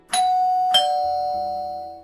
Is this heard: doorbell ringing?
yes